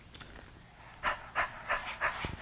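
A person sticks the tongue out and pants like a puppy during a breathing exercise, giving four quick, breathy huffs in a steady rhythm, close and fairly clear over a quiet background.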